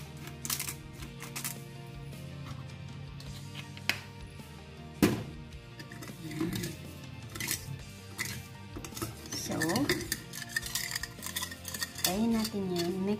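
A utensil stirring and mixing cucumber salad with ground pepper in a kitchen, light clinks and scrapes against a pan or bowl, irregular and close, with some faint voice in places.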